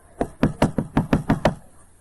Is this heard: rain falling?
no